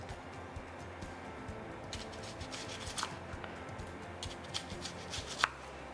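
Onion being chopped on a board with a knife, soft, quick, uneven chopping taps close by, getting a little louder near the end, with no talking.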